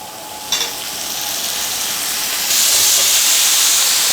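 Onion and sliced tomato sautéing in a hot pan for Kerala chicken curry give a loud, close, steady sizzling hiss that flares when the tomato goes in and swells louder partway through.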